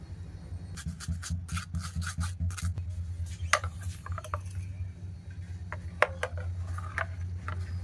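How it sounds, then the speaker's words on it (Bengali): Blended mint and raw mango puree is pushed and rubbed through a sieve, giving steady close scraping and rasping strokes in an irregular rhythm over a constant low hum. "এবার এই পিউরিটা ছাঁকনির সাহায্যে ছেঁকে নেব।"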